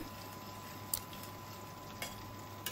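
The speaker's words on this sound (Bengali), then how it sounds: "আমি পেঁয়াজের টুকরো ভেজে নেব।" Onion pieces fry in oil with a soft, steady sizzle and a few faint clicks of stirring, heard alone at low volume.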